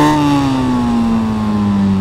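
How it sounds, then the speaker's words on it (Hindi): A 2024 Suzuki Hayabusa motorcycle on a highway revs loud and close, its engine note sliding gradually downward in pitch as it winds through a single continuous pull. "Latest generation Suzuki Hayabusa."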